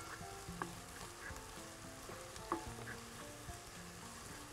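Onion and garlic frying in a pan, a soft, steady sizzle with a few light stirring taps and clicks, faint and without talk.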